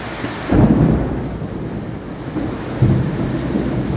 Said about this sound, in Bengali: গুরুম গুরুম কেমন আওয়াজ শুনতে পাচ্ছ? এই যে জোর বৃষ্টি শুরু হয়েছে।